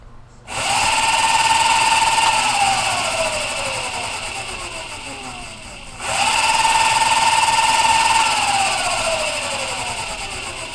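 A 1200 watt electric motor scooter's rear wheel spun up to full speed twice, a loud rising electric whine that settles and slowly winds down before surging again, close up and without talk.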